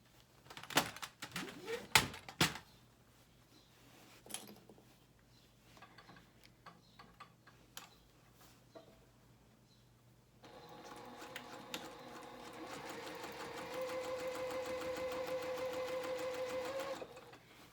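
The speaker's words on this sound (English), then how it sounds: "So I'm going to do this at a 4 stitch length, and again just so as close as you can to this edge" A sewing machine stitches a pressed skirt edge for children's clothing at a 4 stitch length, with scattered clicks and handling noise before settling into a steady, even mechanical run for the last several seconds.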